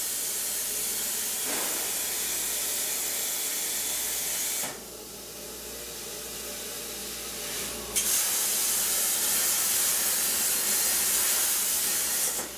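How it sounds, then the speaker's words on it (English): A plasma cutter slices through steel in a container workshop, giving a loud, continuous harsh hiss that drops briefly, then surges back stronger and holds steady, with no voices. "So actually shooting plasma, the fourth state of matter, at the metal to melt it"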